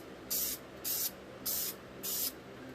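Spray paint is shot in four short, even bursts of hissing aerosol, close and regularly spaced, with quiet gaps between.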